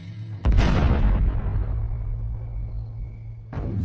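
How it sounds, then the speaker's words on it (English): Blasting-grade ammonium nitrate explosives, likely over 1,000 pounds, detonate with a sudden heavy boom that rolls into a long, loud, slowly fading rumble, then a second blast breaks in near the end; no voices. "After the last explosives are detonated,"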